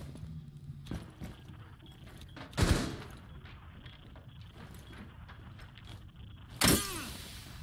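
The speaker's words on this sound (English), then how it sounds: "Boy, you're shooting a lot." Gunfire in the Rainbow Six Siege video game: two loud, sharp shots stand out over a low game background, with scattered softer impacts and footsteps in between.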